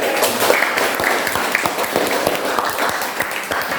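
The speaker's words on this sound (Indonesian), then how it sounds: "Tepuk tangan dulu." A class of high school students claps together in a classroom, a moderately loud burst of many hands with distinct individual claps audible through the steady patter.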